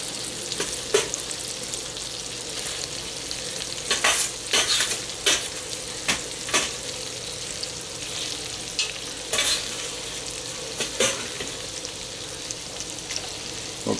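Red beets and softened shallots sautéing in a pan, a continuous sizzle broken by repeated spoon scrapes and stirring knocks at an uneven pace, with no talking.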